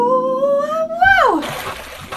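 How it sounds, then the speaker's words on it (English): A cartoon splash of falling back into the sea comes right after a rising then falling whistle-like tone. It is loud and close, and the watery spatter fades out on its own. "Oh, I fell back into the sea!"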